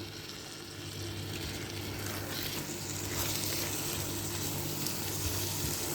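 Cape Malay smoortjie relish sizzles in a pan as a little water is added, a close, steady frying hiss that swells slightly, with no talk.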